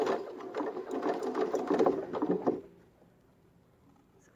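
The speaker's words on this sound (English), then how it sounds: "Do a little back stitch." A sewing machine runs a short back stitch through cloth mask fabric, a steady close whirring rattle for about two and a half seconds before it stops and leaves near silence.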